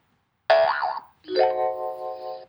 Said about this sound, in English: that is the sound of logging in.